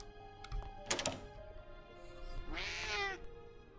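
A cat meows once in a video game, a clear close drawn-out call following a couple of thuds and knocks, over a faint steady background hum.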